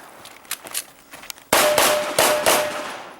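Pistol shots at an IDPA shooting match at Charlotte Rifle & Pistol Club, a few faint pops followed by four loud, sharp, closely spaced reports with ringing echoes.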